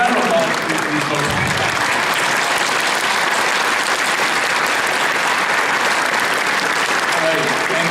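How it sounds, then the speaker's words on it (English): A crowd applauds on stage at Midwest Furfest 2017, a furry convention: loud, continuous clapping from a large audience, dense and unbroken, with faint voices and cheers mixed in. "round of applause for these folks"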